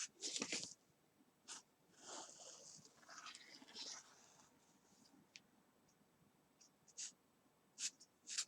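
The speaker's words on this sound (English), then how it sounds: "And I'm going to draw her hair in." A pen or pencil scratches out quick strokes for hair lines on paper, close and faint, in short separate bursts with some longer scribbles between them; no talking.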